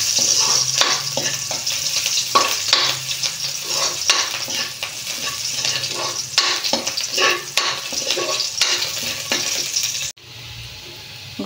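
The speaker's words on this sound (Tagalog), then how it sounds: "Magisa na tayo." Tomatoes and eggplant sautéing in a reduced amount of oil, a steady loud sizzle with repeated stirring scrapes, cutting off abruptly near the end.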